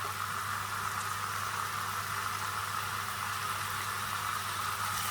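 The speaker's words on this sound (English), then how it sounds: "I'm just going to quickly sear the sides" A pork shoulder coated in a dry rub sears in a hot pan, giving a steady, even sizzling hiss that holds for the whole stretch over a low constant hum, with no talking.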